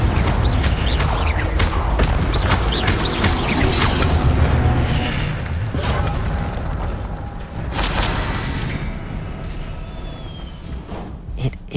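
An Incendio fire spell cast in Hogwarts Legacy, a loud, dense whooshing roar with booming bursts and mechanical crackle, continuous and close throughout with brief sharper hits.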